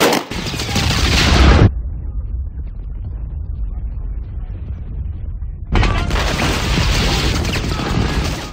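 M855 rifle round fired from a 14.5-inch barrel at a polyethylene plate, a sharp loud report that cuts off abruptly, then near silence before another loud, harsh burst of noise.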